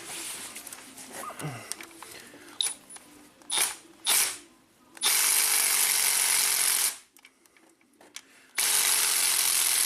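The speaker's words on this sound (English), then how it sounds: "Let's take off this cam cap." Power tool and ratchet work removing a cam cap from the front-bank cylinder head of a classic Toyota Camry engine, with short clicking and whirring bursts followed by long loud stretches of a cordless Milwaukee drill driver running.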